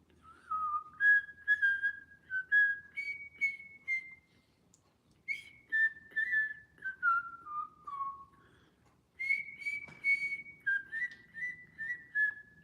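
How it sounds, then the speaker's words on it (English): A person whistles a melodic tune alone, in several phrases of sliding and held notes separated by short pauses, clear and close with no talk. "Every time I whistle, my cat eventually just comes to me."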